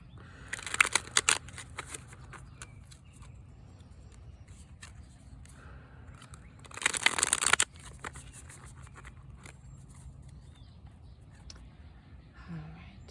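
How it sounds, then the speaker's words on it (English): Two short bursts of crisp riffling as tarot cards are shuffled close by, separated by quiet stretches with faint rustling. "Shuffle the cards a bit."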